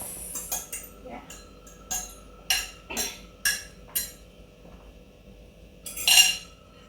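Greek salad dressing is moved into a bigger dish and mixed, with scattered clinks and scrapes of a utensil against the bowl and a brighter clattering burst near the end, close and fairly quiet.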